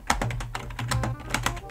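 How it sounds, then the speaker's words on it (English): Fingers tapping on a computer keyboard during a Nitro Type typing game, a quick run of close, crisp key clicks over a steady low PC fan hum. "if y'all hear noise, that's me tapping on the keyboard"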